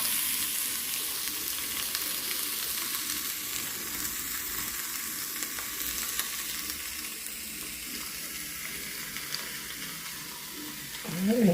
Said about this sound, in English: you just want to kind of fry it until it gets to the golden side